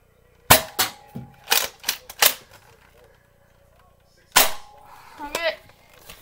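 Nerf Rival Kronos toy blaster fired at a yellow target, giving several sharp close snaps in a quick uneven burst, a pause, then another loud shot followed by a short mechanical rattle.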